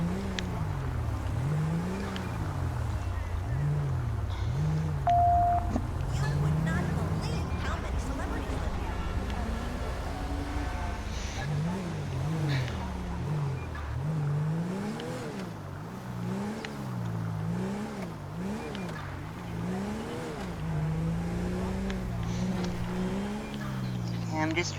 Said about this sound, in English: I'm just driving along here looking for suspicious activity.